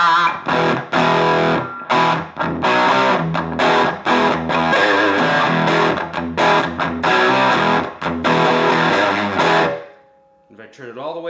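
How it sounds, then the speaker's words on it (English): Loud electric guitar with heavy, aggressive distortion playing chugging chords and riffs, stopping abruptly before a brief, softer note at the end. "Now I got some fairly aggressive distortion there."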